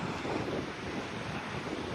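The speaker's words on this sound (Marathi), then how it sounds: "आम्ही आलो आहे आरेवारे बीचच्या इथे आणि इथे सुंदर असा समुद्र आहे" Sea waves wash onto Arevare beach with a steady, soft roar, mixed with wind buffeting the microphone. No one speaks.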